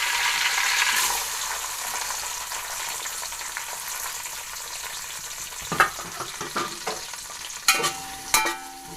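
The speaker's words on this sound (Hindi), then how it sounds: "अब प्याज को ब्राउन कर लेंगे।" Long-sliced onions frying in a pan for aloo gobi sabji, a continuous close sizzle that fades slightly, followed by several sharp clattering stirs near the end, no talking.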